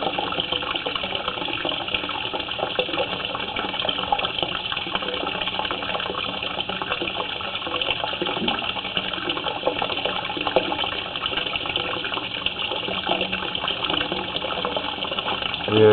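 A commode flushes somewhere in plumbing in a building at 1705 Leestown Rd, a steady gushing rush of water that runs evenly for the whole stretch, with a voice heard faintly.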